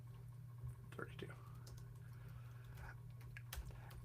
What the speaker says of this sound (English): Stop clicking. I hear the noise all the time.